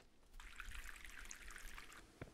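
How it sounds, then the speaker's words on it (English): Water from the Mon Bazou game pours steadily into a dog bowl for about two seconds, a soft continuous trickle that stops with a faint thump. "then we need water in the dog bowl now too"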